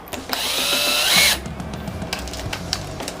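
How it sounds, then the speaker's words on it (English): A power drill whirs at high speed for just over a second, then cuts off, leaving faint clicks and handling noises. "All right, so we're gonna put the drill bit in our drill."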